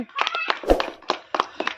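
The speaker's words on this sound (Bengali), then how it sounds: "হাততালি সবাই" A small group claps briefly for a prize winner at a Bengali number game, the claps scattered and uneven rather than a full ovation, with voices chattering over them.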